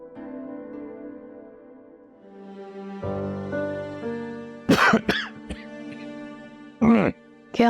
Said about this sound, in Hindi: खांसी क्यों हो रही है?